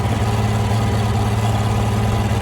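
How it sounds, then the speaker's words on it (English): A farm tractor with a cracked intake manifold runs roughly with the baler and wagon hitched, a loud, close, low steady engine drone with slight uneven pulsing and a brief stumble, no voices. "the tractor started running like a two-legged dog with his shoelaces tied together"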